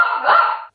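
A dog gives one short, loud bark indoors, close by and alone, lasting under a second before cutting off to silence.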